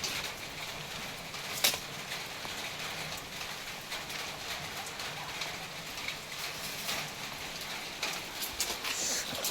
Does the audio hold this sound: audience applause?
no